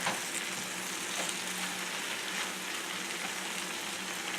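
Spinach wilting in a sizzling garlic butter mixture in a pan, giving a steady, close hiss and crackle that holds evenly throughout with no talking.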